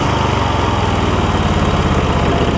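An MTD Lawn Chief garden tractor engine runs steadily up close, loud and continuous, with a slight rhythmic surge in its drone and no talking.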